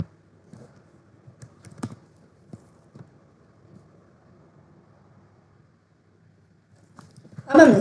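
Soft, irregular keystrokes tap on a computer keyboard while Python code is typed, faint and close. A voice starts speaking at the very end.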